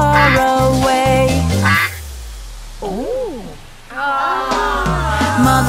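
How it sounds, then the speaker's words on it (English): A cartoon duck quacks loudly in a children's nursery-rhyme song, with a few bright quacks, a sliding call and more quacking over cheerful music. "Mother duck said quack,"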